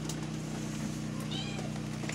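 A female house cat gives a single short meow against a steady indoor hum, faint and close.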